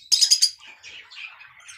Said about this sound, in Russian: попугаи породы неразлучники